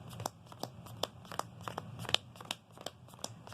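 A deck of trading cards shuffled by hand during a test hand, giving a steady series of crisp papery snaps and riffles roughly every half second, close and fairly quiet.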